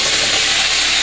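Hot tempered mustard seeds land in a Sri Lankan beef and cassava curry, giving a loud, close, continuous sizzling hiss for a brief moment.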